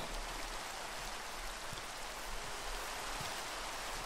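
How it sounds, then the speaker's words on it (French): Steady rain pours down in the blocky world of Minecraft, a dense even hiss that holds at constant loudness with no voices present. "Bon, là, il pleut, c'est chiant."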